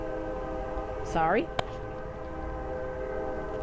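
A train runs on a railway track near a house, holding a steady layered horn-like tone with a brief warbling sweep and a sharp click over low rumble. A voice speaks briefly.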